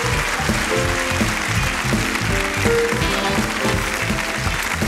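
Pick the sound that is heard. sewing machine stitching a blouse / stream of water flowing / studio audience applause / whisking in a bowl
studio audience applause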